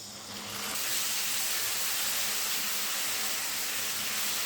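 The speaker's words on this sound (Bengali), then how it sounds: "টমেটো বাটাটা দিয়েও এই পেঁয়াজ আর রসুনের সঙ্গে খুব ভালো করে কষিয়ে নিতে হবে।" Tomato paste fries with onion, garlic and ginger in a pan for a raw jackfruit and prawn curry, giving a loud, dense, continuous hiss that swells in within the first second and holds steady with no talk.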